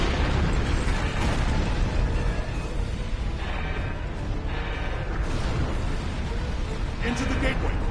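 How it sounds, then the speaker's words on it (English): Detonating charges in a sci-fi chamber erupt as a dense, continuous roar of explosions, with bursts and rumbling booms layered over one another and voices speaking throughout. "Detonating charges."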